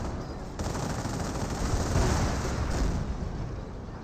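Gunfire striking a Panther tank in the WWII strategy game Company of Heroes 1, a dense, roaring wash of shots and blasts blending into a continuous rumble, fairly steady in loudness.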